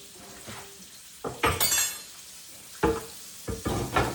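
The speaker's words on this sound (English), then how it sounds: "so I'm going to drop in the pork" Pork dropped into a hot pan with garlic, bursting into loud hissing sizzles after a quiet start, with several sharp clinks and spatters of the pan and utensil close by.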